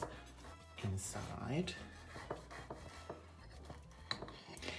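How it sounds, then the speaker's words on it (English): A knife cuts a slice from an Italian cake filled with lemon custard, with close scraping and light clinks of metal on a plate, and a brief spoken word in between. "I'm going to cut it in a slice so you can kind of see what it looks"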